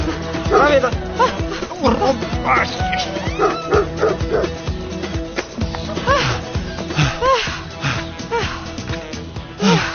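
A dog barks in repeated bow-wows mixed with yips and whimpers, loud and close, over voices and background sound in a dubbed drama scene.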